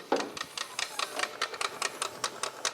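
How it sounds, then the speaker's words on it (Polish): A Volkswagen Passat CC 1.8 petrol with the key turned in the ignition, its throttle body giving off a quick, regular run of sharp mechanical clicks, about a dozen evenly spaced ticks, close and fairly quiet with no talking. "Dźwięk, który tu słyszymy, to jest dźwięk przepustnicy."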